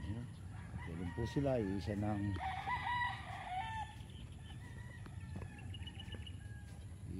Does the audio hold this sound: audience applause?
no